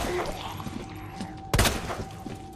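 Gunfire in the Resident Evil 2 Remake video game as a zombie is shot, a single loud, sharp blast cutting through the game's ambient background noise.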